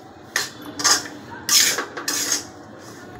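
A spoon scraping and clinking against a metal pan while powdered sugar is stirred into roasted semolina for rava laddu, a few short bursts of scraping with quiet gaps between.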